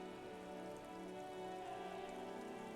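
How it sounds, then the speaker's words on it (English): Rain dripping off Eternite-covered roofs along an urban coastline in the Disco Elysium video game, a soft, steady patter of drops spread evenly across the whole stretch, faint and continuous. "Urban coastline, rain dripping off Eternite-covered roofs."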